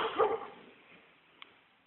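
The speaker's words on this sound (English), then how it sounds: "we have a neighbor dog done barking" A neighbor's dog barks once outdoors on a misty morning, a short, fairly distant yelp that quickly fades, followed by faint clicks.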